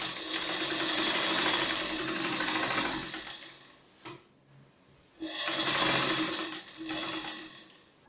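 A sewing machine stitching the lining of a katori blouse runs in steady, close whirring bursts, stops briefly near the middle, then resumes in two shorter runs.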